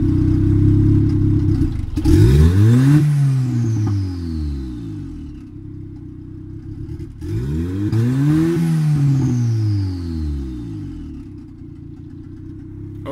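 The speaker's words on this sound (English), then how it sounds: "that was the car with diesel fuel cut on" Diesel car engine with deceleration fuel cut enabled, revving twice in rising and falling sweeps between steadier stretches, close and loud with a slightly cold-engine clatter.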